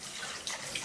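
Bottled water poured into an Aqua Dragons tank, a brief steady splashing trickle of liquid, fairly faint and close, with a couple of small bursts near the end.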